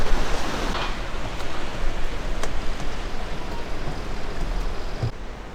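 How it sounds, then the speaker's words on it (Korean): Ocean waves crashing around a rock on the East Sea coast, a broad continuous wash of surf with swelling and receding roar, close and steady, no voices. "바위를 가운데 두고 두 개의 회오리 모양으로 치는 파도가 눈길을 끄네요"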